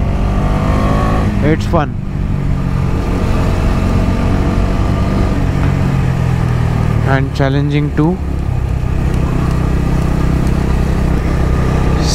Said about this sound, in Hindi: Dominar 250 growling in Lamba Singhi Ghat.